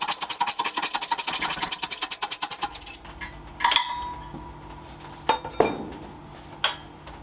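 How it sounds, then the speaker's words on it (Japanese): A suspension bushing for a Caterham Super Seven is pressed into its arm with a socket, giving a run of rapid rhythmic knocks followed by a few sharp, separate metallic clinks and clanks up close. "これでブッシュを受けて上からソケットで押し込む。"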